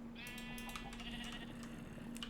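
One sheep in a video game gives a drawn-out wavering bleat over a quiet steady hum, moderately faint and alone.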